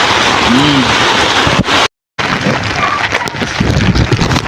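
Heavy rain pours as a loud, dense, continuous roar, broken by one short silent gap, with voices faintly audible underneath.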